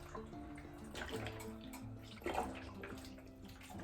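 Low sodium chicken broth, gluten free, pours steadily into a soup pot for homemade cream of celery soup, a continuous close liquid splashing with a brief heavier gush partway through, no talking.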